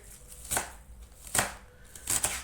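A knife finely chops onion stalks on a board, with three separate sharp, close thuds spaced evenly apart and quiet gaps between them, and no speech.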